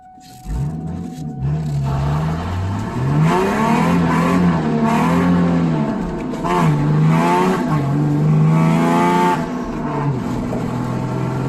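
A Ford Mustang V6 with a five-speed manual spins its tires while accelerating hard, its engine note climbing and falling through revs with tire squeal layered over it, loud and close for about ten seconds with no talking.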